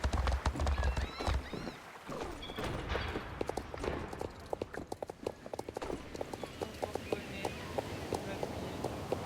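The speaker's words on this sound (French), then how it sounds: "Fais vite, embarque ce cheval tout de suite." Horse hooves clip-clop on a hard surface as the animal is led aboard a barge, a quick irregular run of close knocks with an occasional whinny and people speaking French over it.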